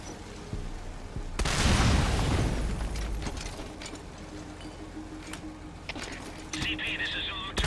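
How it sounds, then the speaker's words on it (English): An explosion in the video game Metal Gear Solid Ground Zeroes, a single loud, close boom that rumbles and fades over a couple of seconds, followed by lighter mechanical noises and game sounds. "Detonation in the area. Can't tell where."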